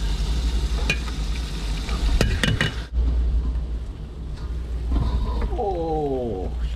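Onion, shallot, ginger and lemongrass fry with tomato in a pan, giving a steady sizzle with a few sharp stirring clatters early on and a warbling tone near the end.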